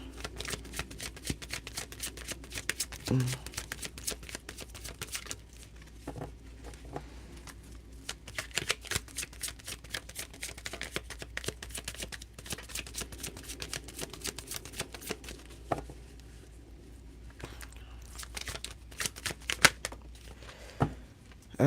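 A Prism Tarot deck is shuffled close by, with quick riffling bursts of card slaps and soft papery patter repeating in uneven runs over a quiet background.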